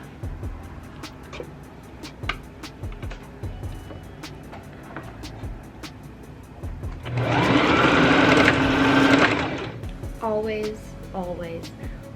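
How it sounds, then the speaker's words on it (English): A sewing machine runs a seam on a fabric scrunchie: a steady whirring burst of stitching lasting a few seconds in the middle, surrounded by quieter handling clicks and taps. "I'm going to sew a line right down the top of that."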